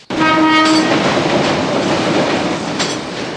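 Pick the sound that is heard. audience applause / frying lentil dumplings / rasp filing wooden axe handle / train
train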